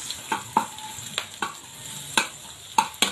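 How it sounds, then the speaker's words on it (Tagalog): Bicol Express being stir-fried with tomatoes in a pan, giving a low sizzle under irregular scraping and clinking stirs of a utensil against the pan, several sharp strokes spread across the few seconds, with no talking. "Magluluto po kami ng Bicol Express."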